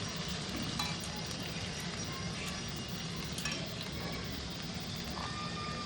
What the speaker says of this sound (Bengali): এখানে টমেটো পেস্ট দিয়ে দিলাম